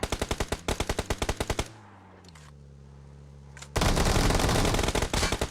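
Rapid machine-gun bursts in PUBG Mobile, loud and close, with a quieter pause in the middle before dense sustained fire resumes, no talking.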